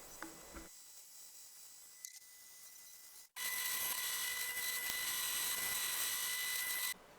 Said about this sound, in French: je perce des trous tout le long de mes tiges de manière à pouvoir insérer des vis